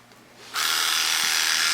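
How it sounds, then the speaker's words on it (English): Electric clippers switch on and buzz steadily through a freshly bathed and blow-dried Old English Sheepdog's coat, a loud, close, continuous whirring hum starting abruptly after a brief quiet moment. "that's what makes the clippers, the blades, slide through so nicely"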